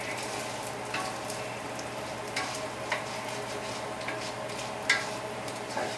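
Vegetables saute in a pot for chicken and orzo soup with a steady soft sizzle, punctuated by occasional light clicks and scrapes of stirring, close up with no voices.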